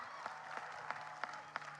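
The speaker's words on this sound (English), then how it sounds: "You can give her a round of applause." A commencement audience at a 2025 undergraduate ceremony claps in a sustained round of applause, a dense steady patter of many hands with a few sharper claps standing out now and then.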